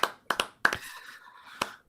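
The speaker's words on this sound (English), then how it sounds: "Round of applause for them." Applause for a camera crew at a VR campus event, heard as a few sharp, separated claps in quick bursts, close and fairly quiet, with a short ringing tail between them.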